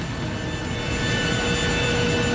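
Steady broadband roar of an airplane's jet engines at an airport, heard from close by while passengers descend the aircraft stairs, continuous and loud with no talking.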